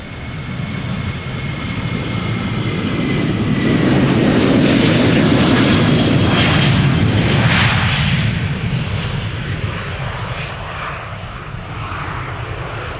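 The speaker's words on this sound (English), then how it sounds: "KLM 737-800 outbound to Berlin." KLM Boeing 737-800 jet taking off at Schiphol Airport outbound to Berlin, a loud, broad engine roar that swells to a peak and slowly fades as the aircraft climbs away, heard outdoors with some wind.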